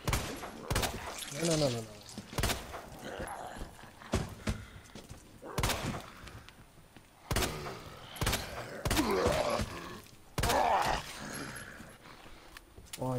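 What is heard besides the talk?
gunshots at zombies in a video game (Resident Evil 2 Remake)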